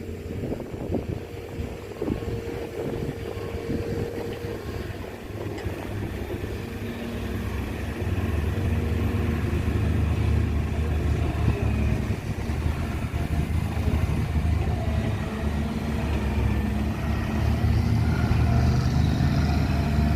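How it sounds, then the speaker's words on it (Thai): An engine strains with revs held high to push a vehicle through thick mud, a rough low drone that grows louder and heavier partway through, with wind noise across the microphone and no voices. "เป็นการเค้นครับเค้นรอบเครื่องยนต์ ให้มันชนะอุปสรรคครับ"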